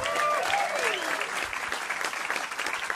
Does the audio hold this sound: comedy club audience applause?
yes